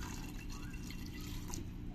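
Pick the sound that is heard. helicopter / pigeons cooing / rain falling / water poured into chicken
water poured into chicken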